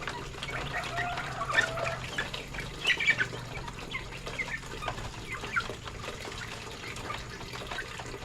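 Chickens in a backyard coop clucking and rustling, scattered short calls and soft flutters at moderate distance over a low steady background, with a few louder clucks standing out.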